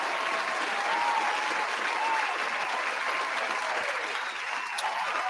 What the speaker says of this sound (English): Round of applause for Chris Jericho